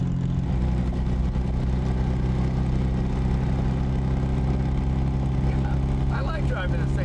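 A 1970/71 Honda Z600 Coupe's small engine hums steadily while driving, a constant close drone with little change in pitch, and a person talks over it at times.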